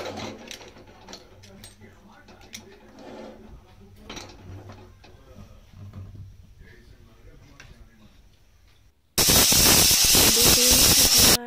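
Pressure cooker cooking mutton: quiet kitchen clatter and rustling give way to a loud, sustained whistle of escaping steam that bursts in near the end and hisses steadily to the close.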